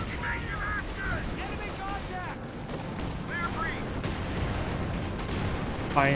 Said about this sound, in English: That was a barrage order.